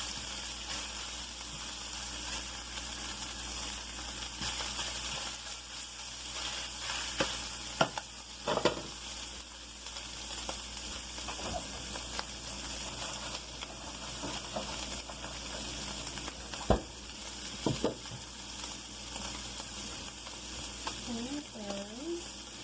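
Cod fillet frying in butter with seasoning, a steady low sizzle running throughout with occasional clinks and stirring noises, no talk over it.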